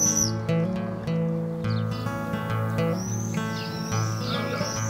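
High, thin screaming calls of swifts sweep overhead in bursts around a garden nest box, repeated several times over a steady low hum, moderately near and clear.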